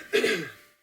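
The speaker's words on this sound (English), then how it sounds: "I'm going to cough." A single short, rough cough or throat clear from an adult, close to the microphone, rising sharply and then fading out within a second.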